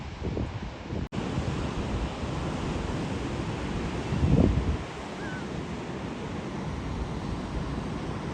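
Low-tide ocean surf near Calafia beach washes in as a constant soft roar mixed with wind buffeting the microphone, with one brief gentle swell rising near the middle.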